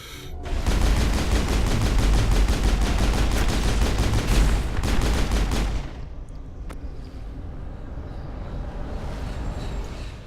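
A Mass Effect firefight against Geth erupts in loud, rapid automatic gunfire for about six seconds, then drops to sparse, quieter shots and background rumble.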